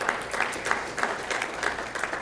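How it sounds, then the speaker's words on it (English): An audience claps steadily in a hall during a Hall of Fame induction at the Huntsman World Senior Games, a moderate, even wash of applause with no break. "A round of applause, please."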